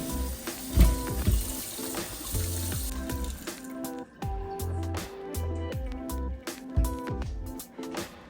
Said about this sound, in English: let's wash the pumpkin